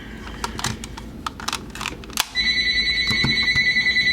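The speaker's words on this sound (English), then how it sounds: "and the phone's ringing." A telephone ringing in a room, a steady pulsing electronic trill that starts partway through after a few light clicks and taps of plastic toy pieces being fitted together nearby.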